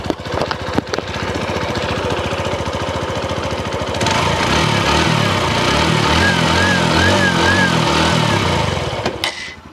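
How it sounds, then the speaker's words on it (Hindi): A TVS Radeon commuter motorcycle engine starts with a few sharp cranks, then settles into a steady, loud single-cylinder idle with a pulsing low throb, close by and with no talking over it. "अब हम आपको सुनाते हैं रेडियन के इंजन का साउंड"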